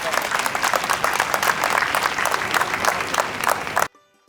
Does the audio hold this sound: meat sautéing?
no